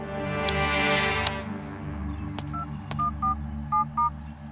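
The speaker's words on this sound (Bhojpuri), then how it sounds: "अपने भाई को फोन लगाओ, लगाओ।" A telephone being dialed, its keypad tones beeping in short separate presses, with a steady background hum and a couple of clicks before the tones begin.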